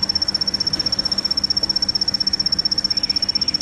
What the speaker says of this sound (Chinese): 这个叫金铃子。